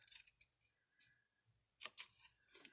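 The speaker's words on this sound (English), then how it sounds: "I'm just going to cut a little triangle out" Small scissors snip through paper while a candy holder is being made, giving a few sparse, quiet cuts separated by pauses, the sharpest snip near the end.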